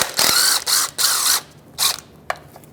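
A ratchet with a 12 mm socket backs out oil pan bolts on a 2015–2024 Jeep Renegade. Loud, close bursts of rapid pawl clicking come in four short runs, then a single sharp tick.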